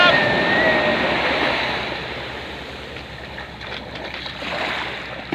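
Sea waves wash onto the shore at a resort, a loud continuous surf roar close by with wind noise, and people talk over it.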